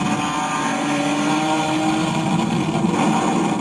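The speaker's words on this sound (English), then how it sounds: "You can hear his exhaust." Loud, steady exhaust drone from a car fitted with fake BMW M3 CSL parts, heard on crowded city streets with no talking over it.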